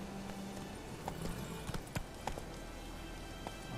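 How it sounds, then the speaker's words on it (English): Roach, Geralt's horse in The Witcher 3: Wild Hunt, clip-clopping along with hoofbeats that come in a loose, irregular rhythm over a faint, steady game ambience. "Okay, horses."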